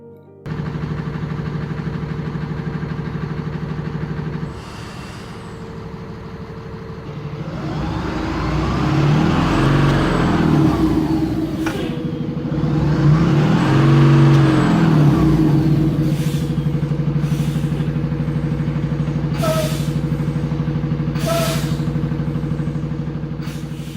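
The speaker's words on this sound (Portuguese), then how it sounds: "vamos ouvir o som do ônibus e vamos começar a história." An Iveco 170S28 city bus, number 310 in Pelotas, runs steadily close by, its engine whirring and revving up in two long rising-and-falling swells before idling down again.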